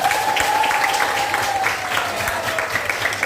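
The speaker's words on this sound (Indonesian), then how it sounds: "Ayo, tepuk tangan" Students in a classroom applaud together, a dense, even patter of clapping hands that carries steadily through the whole moment, with a thin whistling tone drifting above it.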